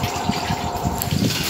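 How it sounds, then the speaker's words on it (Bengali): Cooked pasta poured out and rinsed under cold water, a loud continuous gush of running water splashing close by, with no talking. "এরপর পাস্তাটা ঢেলে ঠান্ডা জল দিয়ে ধুয়ে নেব"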